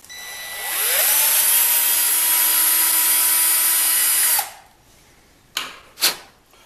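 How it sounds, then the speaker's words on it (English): Power tool driving a tap to cut a 10-24 thread into PVC pipe, a steady high whirring buzz for about four seconds that stops abruptly, followed by two short sharp bursts. "I don't remember if I mentioned that I was tapping this to a 1024"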